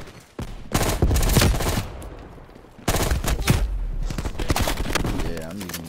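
An M16 rifle in Call of Duty Black Ops Cold War fires in two loud, close bursts separated by a short lull. A voice talks over the shots.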